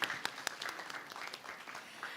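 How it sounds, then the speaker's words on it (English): Audience applause at a regional early warning and early action forum, a moderate spread of clapping with a few sharp close claps at the start, thinning and softening toward the end. "We can clap for them."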